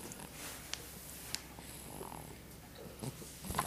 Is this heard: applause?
no